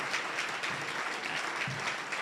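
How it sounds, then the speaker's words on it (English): Faint, distant audience applause at a scholarship presentation ceremony, a brief steady wash of clapping with no voices over it. "Let's have one more applause for our scholars."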